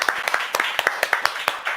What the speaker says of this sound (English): Let's give a real clap in the studio.